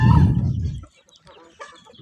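A farm chicken gives a loud, close cluck at the start, followed by softer, scattered fowl calls that trail off quietly.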